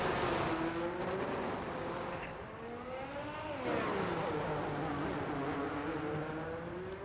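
Ferrari race car in a racing video game at Miami, engine note rising and falling through gear changes and corners, steady and moderately loud, with a dip mid-run before revving back up.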